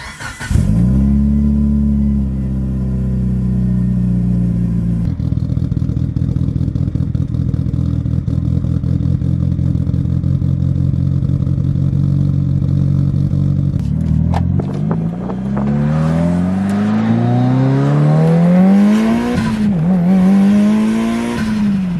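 A Mitsubishi Lancer Evolution VIII on a fresh retune warms up and pulls away, its engine droning steadily before revving hard through rising gear pulls with a sharp shift and clatter, loud and close with no talking.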